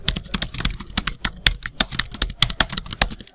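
Someone types a name into MS Word 2007 on a computer keyboard, producing quick, uneven bursts of crisp key clicks at close range with no talking.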